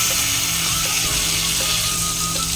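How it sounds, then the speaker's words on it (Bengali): Steady, dense sizzling of carrots frying in a pan, continuous throughout with a few faint clinks of a utensil. "গাজরটা ভাজা হয়ে যাক হালকা করে।"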